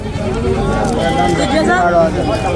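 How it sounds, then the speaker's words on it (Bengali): Adult Black Bengal does bleat at a rural livestock market, a loud steady run of wavering calls that fills the whole moment, with crowd noise and voices close around. "দর্শক এই পাশে আপনারা দুইটা ধাড়ি ছাগল দেখতে পাচ্ছেন"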